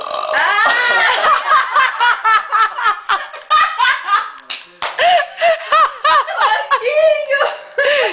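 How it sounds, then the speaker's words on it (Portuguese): A long, loud, gurgling burp carries on for several seconds at close range while people laugh and talk over it. "filmou esse arroto"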